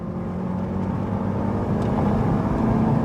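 A Honda Accord CL9 lapping a race track at a track day, its engine giving a steady droning hum that swells slightly as the revs climb, heard from inside with no talk.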